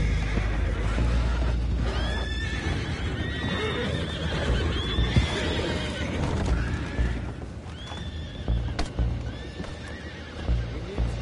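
Horses neigh and whinny several times over clip-clopping hooves and a busy, rumbling background in the video game Red Dead Redemption II, with voices talking now and then.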